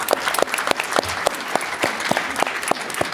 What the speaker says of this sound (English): And don't feel shy about applauding. We can applaud all the way through.